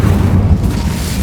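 A fire spell bursts in Hogwarts Legacy as a single loud, close, low booming explosion that rumbles briefly and then fades.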